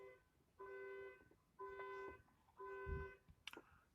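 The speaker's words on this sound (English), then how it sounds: "with their horn blowing. I guess that's their alarm or something" A neighbor's horn or alarm sounds three evenly spaced electronic beeps, each about half a second long and heard from a distance, followed by a faint brief chirp.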